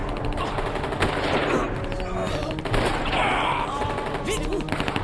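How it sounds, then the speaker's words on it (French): Rapid bursts of machine-gun fire crackle in a dense, loud, continuous volley that barely lets up, with voices faintly mixed underneath. "On tire dessus"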